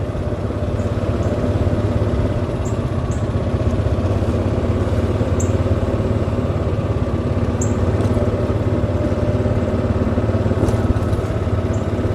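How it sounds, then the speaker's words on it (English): A golf cart cruises along a scenic route in The Villages, Florida, its motor giving a steady, continuous drone that stays close and even the whole time, with faint high chirps above. "taking a scenic golf cart ride"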